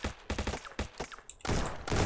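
Kalashnikov rifles fire in a video game shooter, starting with rapid bursts of sharp gunshots, then a few spaced shots, then a dense closing fusillade, all loud and close with no talk over them.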